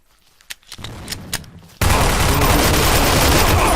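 Rapid gunfire from the blocky shooter Blockade 3D opens with a few scattered shots, then turns into a loud, continuous burst of automatic fire that fills the rest.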